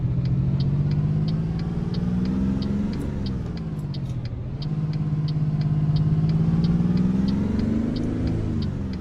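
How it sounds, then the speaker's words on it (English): V8 truck engine in American Truck Simulator, a loud steady low rumble that dips briefly as if shifting gears, then climbs back up, with a faint regular ticking over it and no talking. "Listen to that engine."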